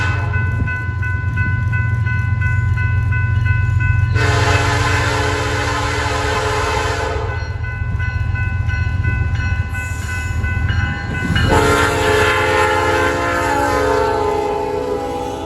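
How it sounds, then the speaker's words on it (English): A freight train rolls past with a steady low rumble while its P5 horn sounds loud and close in two long blasts, one near the start and a second held through the end. "This train had a P5 horn on the meter."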